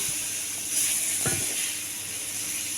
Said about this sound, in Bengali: এই যে দেখতেই পাচ্ছেন কেমনভাবে ভেজে নিচ্ছি পটলগুলো